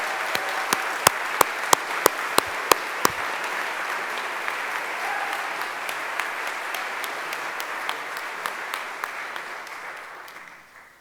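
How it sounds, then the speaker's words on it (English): Audience at an alumni awards ceremony giving a long, steady round of applause, with sharp rhythmic claps punctuating the crowd noise before it gradually fades at the end. "Please join me in a final round of applause"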